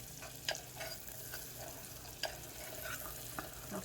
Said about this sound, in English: we're gonna keep stirring it until the butter